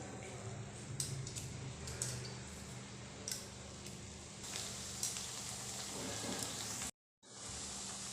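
Oats and potato mathri deep-frying in a kadai of oil make a quiet, steady bubbling sizzle with occasional sharp clicks and pops. The sound briefly cuts to silence near the end, then the fry resumes.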